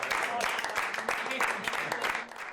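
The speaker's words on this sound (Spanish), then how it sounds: "Y ronda de aplausos también en Génova para Feijóo," Round of applause from party supporters for Feijóo at the Génova headquarters, a dense steady clatter of clapping mixed with a murmur of voices throughout.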